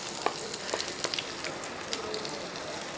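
Chopped garlic dropped into hot oil for an egg dish sizzles and crackles steadily, a close, bright frying hiss with small pops throughout, no voices.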